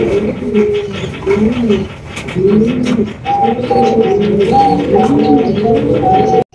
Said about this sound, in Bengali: এখানে কিন্তু দেখতে পাচ্ছেন বিশাল সাইজের একজোড়া কিং কবুতর আছে, রেড কালার কিং